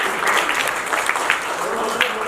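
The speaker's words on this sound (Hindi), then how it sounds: "मैं चाहूँगा जोरदार तालियां हो जाए" Audience applause for a film's cast and crew at a poster reveal and media event, steady dense clapping filling the whole stretch at moderate loudness.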